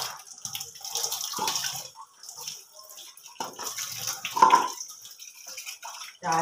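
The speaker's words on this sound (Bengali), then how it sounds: "তো পাতাটা একটুখানি ধুয়ে নিচ্ছি" Leaves washed under a running kitchen tap, with water splashing and trickling in uneven bursts and gaps, moderately close, and a brief louder gush near the end.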